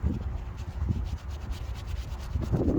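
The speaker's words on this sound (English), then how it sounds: "Just grab a rag and slide it into the slot like this, then move it back and forth." Rag rubbed back and forth inside the slot of a rear brake caliper bracket on a 2013-2018 Nissan Altima, giving steady close scrubbing strokes with a rhythmic rasp and no talk.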